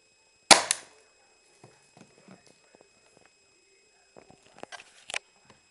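An airsoft gun converted to fire darts goes off with one sharp, loud snap and a quick second click, followed by faint handling clicks and a couple of small taps later.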